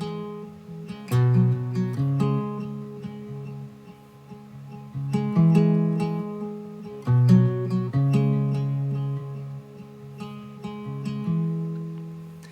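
Fingerpicked acoustic guitar plays a gentle intro, plucked bass notes and ringing chords repeating in a relaxed pattern, solo and close.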